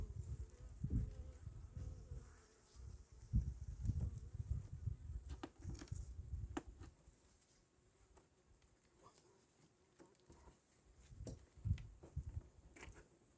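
Steady low buzzing of many honey bees at an apiary, close and continuous, with occasional faint clicks and handling noises and no clear speech.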